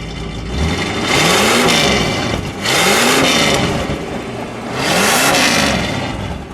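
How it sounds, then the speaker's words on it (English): Three quick throttle blips from a 1966 Ford Fairlane 500 with a 289 V8 and single exhaust, each rev swelling and falling back toward idle, loud and close with no voices. "All right, give it a little rev."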